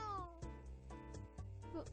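A black cat in a Steam romance visual novel gives one short meow, followed by brief spoken voices.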